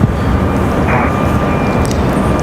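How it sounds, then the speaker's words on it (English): A Delta Boeing 737 airliner sits at the end of the runway, its engines giving off a loud, steady, broadband roar for the whole short stretch. "We do have that Delta 737 out at the end of the runway now"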